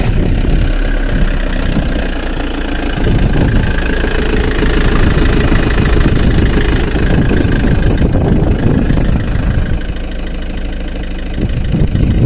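A car engine idles steadily just after its battery was refitted, a loud continuous low rumble with faint vibration, heard close up with wind noise on top.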